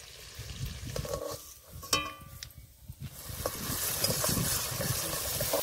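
Ritha fish is added to hot oil in a pan, bringing a rising, steady frying sizzle that grows denser and louder after a few clinks and scrapes, heard close up.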